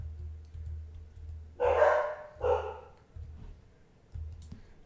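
Two dogs bark in the background of an indoor room, a pair of loud, close woofs about a second apart over a steady low hum, with no talk.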